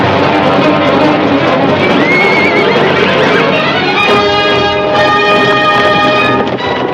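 A herd of horses fills the scene with loud, continuous noise as a horse gives a high, wavering neigh. Further whinnies and a dense rumbling wash of the herd follow, with a swelling orchestral score mixed in.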